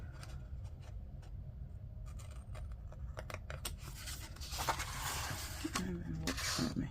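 Scissors trim paper at a crafting desk, making a few quiet, brief snips and scratchy cuts set against low background noise, with faint talk nearby.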